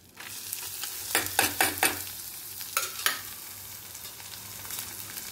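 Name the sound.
onions being sautéed in a pan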